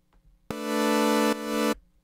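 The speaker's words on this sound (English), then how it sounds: "It's going to start with just open a saw wave." A plain saw wave from the Serum synthesizer sounds as a loud, bright, buzzy sustained chord lasting about a second and a quarter, briefly retriggered midway, then cutting off abruptly with no talking over it.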